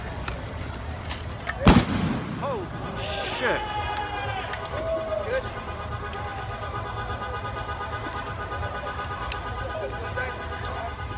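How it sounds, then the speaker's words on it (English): A single loud firework bang bursts early, followed by crackling and whistling trails as it falls, over a noisy outdoor crowd at a night protest with police, voices in the background. "Got a firework coming down."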